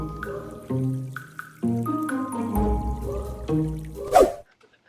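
Water is poured out at home for kids to play in, a steady gushing fill with shifting tones that ends in a brief rising splash before cutting to silence.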